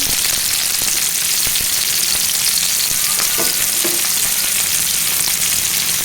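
Sliced onions and green chillies fry in hot oil in a pan for Maharashtra-style aloo poha. A loud, steady, close sizzle runs continuously, with a few faint clicks under it and no talking.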